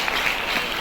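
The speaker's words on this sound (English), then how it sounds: "Let's give them our clap of appreciation for this" Audience applause at a charity fashion show in a Manila hotel, a brief, dense wash of many hands clapping that stays constant throughout.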